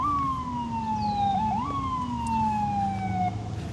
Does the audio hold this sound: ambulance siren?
yes